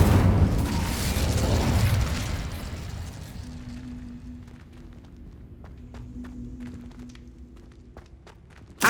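An Incendio fire spell cast in Hogwarts Legacy on PS5 bursts out as a loud, roaring whoosh that fades over about three seconds, followed by quieter in-game footsteps and light taps.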